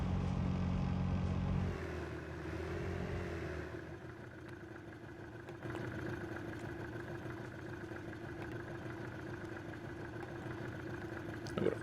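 A vehicle engine idles in the video game ARMA III, a low, steady mechanical hum that drops slightly in tone early on, then runs on evenly and fairly quietly.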